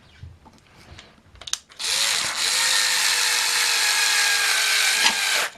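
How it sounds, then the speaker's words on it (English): Power drill driving a screw in during a switch repair: a few light handling knocks, then the drill whirs up loudly and runs steadily for several seconds with a slight pitch dip, close and alone. "I'm just going to drill this in."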